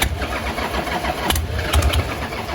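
A 1979 Harley-Davidson Roadster XLS1000 chopper is cranked with choke on, its starter churning in a low repeated chug with brief bursts but no sustained running, close and loud.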